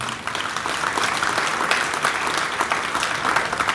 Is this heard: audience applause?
yes